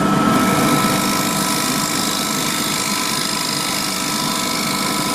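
A wooden lamp base spins on a wood lathe while being trimmed, giving a steady, close, loud whirring drone with a hiss of cutting that holds unbroken throughout.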